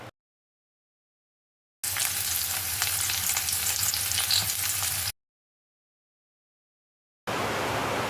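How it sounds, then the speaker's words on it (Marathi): Sliced onion and garlic sizzling steadily in hot oil, a continuous bright crackling hiss that runs for a few seconds, breaks off into silence, then returns near the end. "कांदा चांगला लाल गुलाबी भाजून घ्यायचा आहे"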